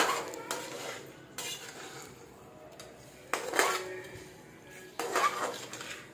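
A spoon stirs and fries chicken karahi in a metal pan, giving a few sharp scraping clinks against the pan over a quiet background, with only a faint sizzle.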